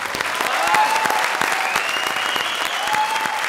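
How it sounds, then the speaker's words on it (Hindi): Studio audience applause at a Comedy Circus taping, loud dense clapping that holds steady throughout with a faint voice over it. "जोरदार ताली।"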